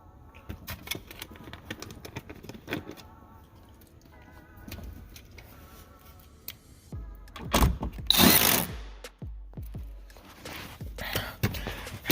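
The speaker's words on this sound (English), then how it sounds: "We're gonna take our 7mm and mount that back in the speaker hole." A 7mm driver fastens a speaker mount into the door of a 2015 GMC Canyon, heard as short bursts of power-tool whirring mixed with clicks and handling noises, with one louder burst near the end.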